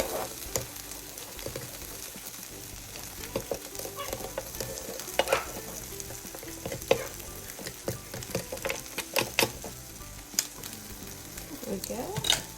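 Bacon frying in a pan while breakfast sandwiches are being made, giving a steady crackling sizzle throughout with scattered sharper pops and utensil clicks, fairly quiet and close.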